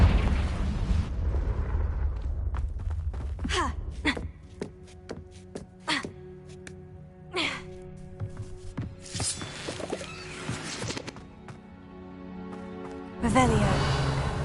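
Confringo blasting curse going off in the Hogwarts Legacy video game: a few booming, broadband blasts, a heavy one near the start and another near the end, amid busy game effects and voices.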